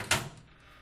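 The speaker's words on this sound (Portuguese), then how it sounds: "Porta de micro-ondas" A microwave oven door from a sound effects library makes one sharp, close click or thunk, and a brief fading tail follows it.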